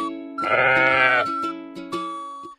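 A sheep gives one long, loud wavering bleat, followed by shorter clicks and a brief second call, close and clear with no talking.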